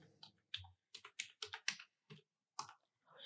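Quick, close key clicks from typing on a computer keyboard during software work in Unreal Engine 5.3.2, arriving in short irregular bursts with brief pauses and no talking.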